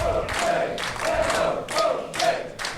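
Wrestling crowd at an indie show in Cathays, Cardiff, chanting in rhythmic loud bursts of voices, several repeated swells in quick succession with a small venue echo.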